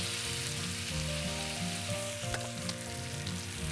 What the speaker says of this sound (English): You can hear that great sizzle that we get from the cast iron.